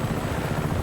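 A helicopter in the Just Cause 3 video game drones with a steady, loud rotor chop, close and continuous with no voices.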